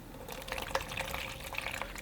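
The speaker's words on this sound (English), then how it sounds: "And I'll put some fresh water in here." Fresh water trickling into a plastic orange juice container used as a painter's water jar in a studio, soft splashy filling sounds with faint bubbling, close and quiet.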